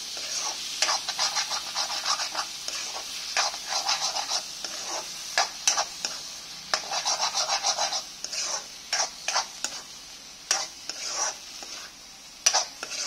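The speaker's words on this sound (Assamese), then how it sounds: "এতিয়া মই বাকী লাওখিনিৰ লগত মই মিক্স কৰি লওঁ" Fried egg and bottle gourd being stirred together in a hot pan, with a close, steady scraping of a spatula in repeated rhythmic bursts over a soft sizzle.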